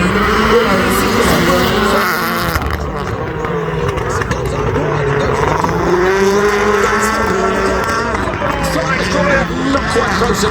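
Rallycross race car engine roaring and shifting pitch as it drives around a Nitro Rallycross track at The FIRM, loud and continuous under crowd babble and commentary.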